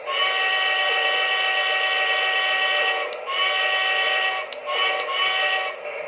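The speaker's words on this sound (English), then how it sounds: "So here's the whistle." Whistle of a Lionel Promontory Summit Lion Chief toy train set, heard as a loud, steady, multi-tone blast that runs about six seconds with two brief dips, close and alone.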